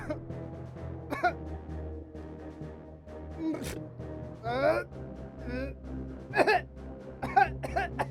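An elderly man in a Hindi crime drama coughs in a series of harsh, close bursts spread across several seconds, with heavy breaths between them and a continuous low hum behind.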